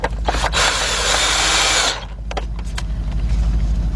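Power tool tightening an 8mm fitting on a Lincoln LS heater control valve, a close, steady whirring run of about two seconds, then a few ratchety clicks and handling knocks.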